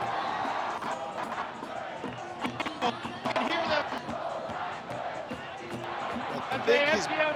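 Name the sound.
crowd of fans screaming and yelling at Raptors parade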